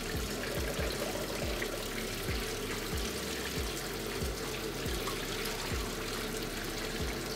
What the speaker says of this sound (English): So now you just wanna run your tap so the water's running nice and freely.